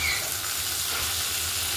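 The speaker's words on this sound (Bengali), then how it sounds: "চিংড়িগুলোকে ভালো করে ভেজে নেব আগে" Prawns and pointed gourd fry in hot oil in a pan, giving a steady, close sizzle that holds evenly from start to end with no talking.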